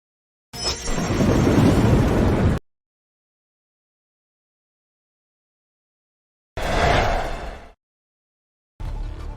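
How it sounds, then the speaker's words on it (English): Thunder in a stormy scene: a long, loud rumbling crash, then after a silent gap a shorter second roll and the start of a third, each booming with no talk over it. "It's just some thunder."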